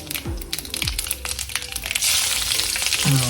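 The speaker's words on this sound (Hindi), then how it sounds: "तेल गरम हो गया है अपना, थोड़ा सा मिर्चा भी हो जाएगा फ्राइड" Chillies spit and sizzle in hot oil in a home kitchen, with crackling bursts, a few utensil scrapes and a louder steady frying hiss toward the end.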